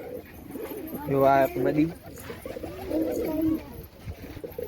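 Pigeons being raised and fed grain coo in soft, low throaty bursts nearby, alongside a person talking.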